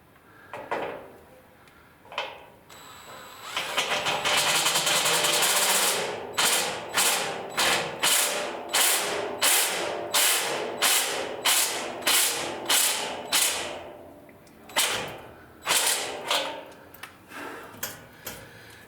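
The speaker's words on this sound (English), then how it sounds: "So that is the drilling that we're about to do." A power drill bores into a roof to run an antenna cable, a long steady whine followed by a rapid series of short bursts as the trigger pulses, then a few more bursts near the end, loud and close.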